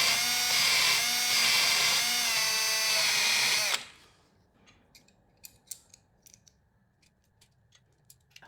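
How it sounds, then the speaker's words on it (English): A drill press drilling a metal bar whines loudly and steadily for about four seconds, then cuts off, leaving quiet room tone with a few scattered light clicks and taps. "I'm using a drill press"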